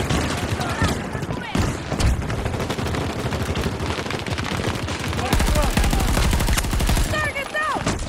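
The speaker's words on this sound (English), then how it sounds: "Nope, that's a grenade." A grenade blast in the shooter game Battlefield 2042 lands amid dense, rapid gunfire and explosions. The din is loud and continuous, with players shouting over it.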